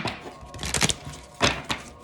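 A card deck shuffled by hand in a quiet room, a few soft riffling bursts and light taps spread over two seconds, close and fairly faint, with no voices.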